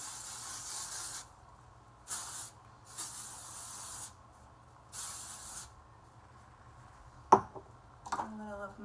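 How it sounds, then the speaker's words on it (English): Short hissing bursts of an aerosol hair texturing spray, four or five separate sprays with pauses between, followed by a few faint clicks and handling noises. "Just gonna add my texturing spray."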